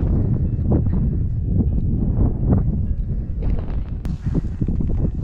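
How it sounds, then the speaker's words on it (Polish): Strong wind roars and buffets continuously on the winter slopes of Rysy mountain amid blowing snow, with gusty rumbling and a brief sharp crackle near the end; no one speaks. "Wiatr. Sypuje śnieg."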